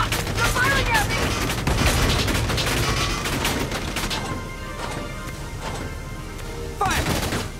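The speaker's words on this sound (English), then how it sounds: "They're firing at me!" Scattered rifle and machine-gun fire from the tactical video game Valkyria Chronicles 4, a steady crackle of overlapping shots with occasional louder bursts, moderately close, with in-game voices calling out over the battle.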